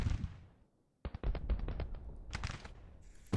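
Civil War musket volleys in the strategy game Grand Tactician: The Civil War, with a fading roll of fire, a brief lull, then a rapid string of sharp distinct shots followed by scattered reports, moderately quiet.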